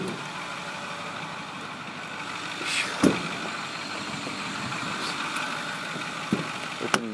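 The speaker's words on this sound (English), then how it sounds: "Let me fire it up so you can hear it run." A 2008 Ford F350 diesel dually truck engine idles steadily with a low, even rumble, broken by a couple of brief clanks and knocks near the start and end.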